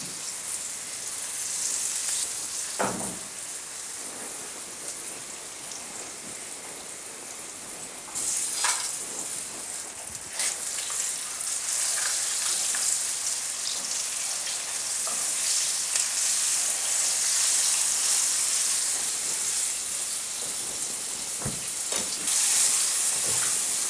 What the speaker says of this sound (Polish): Zaczynamy smażyć od skórą do dołu.